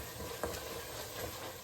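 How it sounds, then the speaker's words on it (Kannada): Masala paste frying in a pan for chicken sambar, giving a steady close sizzle and crackle that runs throughout with no voices. "ಫ್ರೈ ಆದಮೇಲೆ ನಾನು ಮಾಡಿರೋ ಪೇಸ್ಟ್ ಹಾಕ್ಕೊತೀನಿ"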